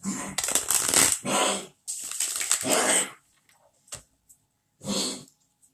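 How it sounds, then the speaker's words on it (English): A dog vocalizes in several bursts, loud and close, with short pauses between, then a couple of quieter, briefer sounds trailing off. "Sorry about the doggy."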